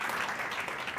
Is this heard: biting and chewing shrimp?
no